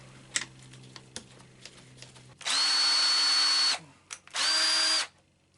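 Makita cordless battery drill driver whirring in two bursts, a long steady run then a short one, driving the screw back into a keyless chuck, with a few faint clicks and taps between.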